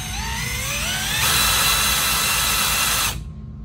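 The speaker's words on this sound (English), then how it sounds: "get your cordless drill" A cordless drill with an adapter cranks a Makaira Mac 50 fishing reel set in low gear, a whining motor rising in pitch, then a loud steady high whir for about two seconds before it cuts off.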